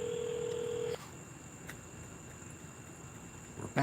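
A telephone tone sounds steadily for about a second, then stops, leaving a quiet line hiss with faint clicks before another brief tone near the end, no voices present.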